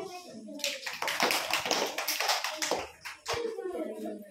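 Children clapping their hands together in a classroom, a bright burst of quick, uneven claps close by that fades into scattered taps, with a voice talking faintly underneath.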